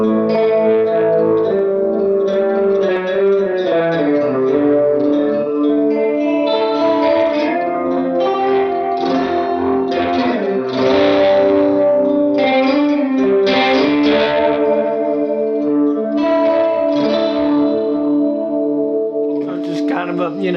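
Electric guitar chords shimmering through a chorus effect, a continuous, loud wavering wash of notes with no talking.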